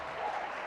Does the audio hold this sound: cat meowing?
no